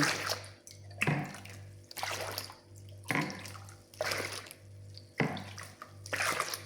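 Water poured into a bowl of flour, milk and sugar for Turkish pişi dough, a splashing, pouring wash in several uneven bursts with brief pauses, close and moderately loud over a steady low hum.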